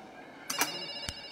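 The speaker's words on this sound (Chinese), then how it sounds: "咱们怎么能接夏冰的电话呢" A telephone ringtone sounds in short bright electronic bursts, two close chirps followed by another a moment later, fairly faint in a quiet room with no talk.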